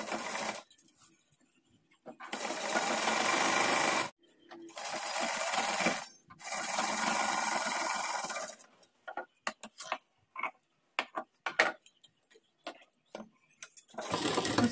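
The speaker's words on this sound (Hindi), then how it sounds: "उसके बाद इसको इस तरह से यहाँ से रखेंगे, यहाँ से सिलाई लगाएंगे।" A domestic sewing machine stitches a blouse waistband in several close, steady runs of whirring needle action, broken by short pauses and then quick stop-start bursts, with a voice talking between runs.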